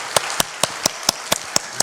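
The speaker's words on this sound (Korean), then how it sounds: "신실하신 하나님께 영광의 박수 올려드리겠습니다" Clapping from a church congregation during a worship service, heard as sharp, evenly spaced claps in a steady rhythmic beat, about eight in a row, close and crisp.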